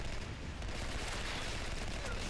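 Rapid gunfire in the video game Holtey's Hunt, a loud, continuous burst of shots packed tightly together like a fusillade, filling the whole moment without a break.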